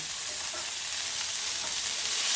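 Bitter gourd and potato pieces fry in mustard oil with a steady, close sizzling hiss. It holds even and unbroken for a couple of seconds with no voices.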